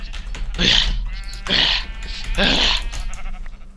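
A Minecraft sheep bleats three times in a slow, evenly spaced series, each call loud and wavering over a low background hum.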